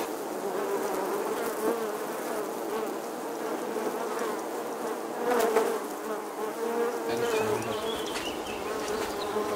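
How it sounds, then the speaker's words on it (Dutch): Honey bees swarm and buzz around a hive at an open day, a steady dense drone that stays loud and close throughout with no one talking. "Hier zie je die bijen hier zo."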